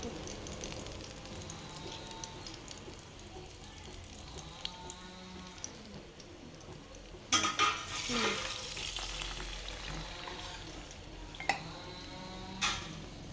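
Ghee heats and fries in a pan with a soft, crackling sizzle, punctuated by a few louder spatters and light scraping bursts, fairly quiet and close with no talking.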